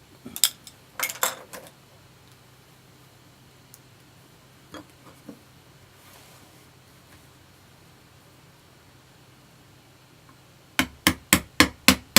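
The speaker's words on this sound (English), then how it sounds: "Hammering. Let's get back to it." Hammer blows during wood carving: two early bursts of sharp knocks, a few isolated taps in a quiet middle stretch, then five loud, evenly spaced strikes close up at the end.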